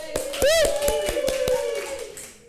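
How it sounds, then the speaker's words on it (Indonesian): Brief classroom applause during a microteaching session, a handful of distinct hand claps ringing out near the microphone while a voice speaks over them. "Tepuk tangan buat Mas Ilham."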